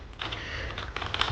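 Typing on an Empire Gaming full-size RGB keyboard, a dense run of soft key clicks and clacks with a brief pause, then a quicker burst near the end; fairly quiet and close, with no talking.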